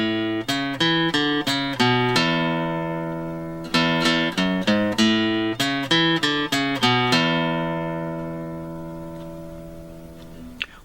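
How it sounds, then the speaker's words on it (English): An acoustic guitar plays the intro of a song as clean, bright picked notes in quick melodic runs, close and alone, with a final chord ringing out and fading. "First, we'll learn the 12-string intro, but we'll play it on the acoustic guitar."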